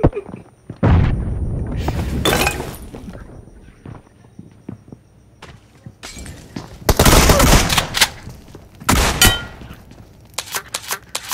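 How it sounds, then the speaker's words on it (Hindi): Grenade explosion and gunfire in an online shooter video game, loud bursts of booms and rapid shots in several clusters, with quiet gaps and faint talk between them. "बोटा ग्रेनेड कर रहा है"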